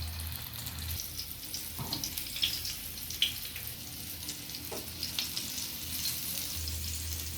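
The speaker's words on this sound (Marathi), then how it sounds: "आता एक एक असा बांगडा घेऊन रव्यामध्ये व्यवस्थित घोळून घ्यायचा आणि पॅनवर घालायचा" Semolina-coated mackerel (bangda) frying in oil on a pan, a soft, steady sizzle with a few faint clicks and shifts, close but quiet, no talking.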